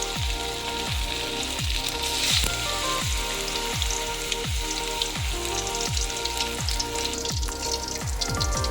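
Masala-coated fish frying in hot oil, a dense continuous sizzle and crackle, close and fairly loud, with a steady repeating low thump beneath, no voices.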